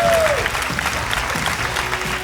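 Audience at a comedy show breaking into applause, a dense, steady wash of clapping that carries throughout at close range with no voices standing out.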